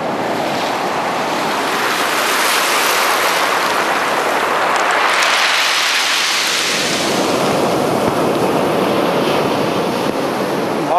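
Ocean surf breaks onto a shore in a continuous loud roar, with a big wave crashing and washing in midway. Strong wind rushes through the whole stretch and no voices are heard.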